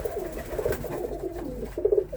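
Pigeons coo in a loft, with a close, moderately loud run of low burbling coos, the last one stronger, over a faint background hum.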